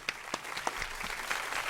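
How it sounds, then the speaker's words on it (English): Audience applause, moderately quiet, with a few distinct sharp claps early on that blend into a soft, continuous patter of clapping from a small crowd. "Big round of applause."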